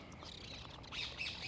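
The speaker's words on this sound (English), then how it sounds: "These birds must be close by. I can see them flying around these trees and they're pretty loud." Birds call from trees in a London royal park, a busy mix of chirps and squawks at moderate distance over steady outdoor background noise, growing a little louder toward the end.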